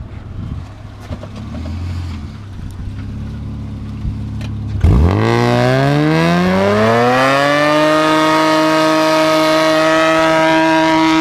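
A Honda car with an aftermarket exhaust pulls off from idle in first gear. The engine note rises sharply into a loud, steady, buzzy drone, close to the microphone, with some wind noise.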